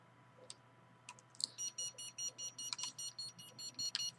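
A rapid series of short, high electronic beeps repeats steadily after a few scattered clicks, fairly loud over a faint background hum.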